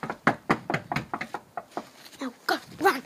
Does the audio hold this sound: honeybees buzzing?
no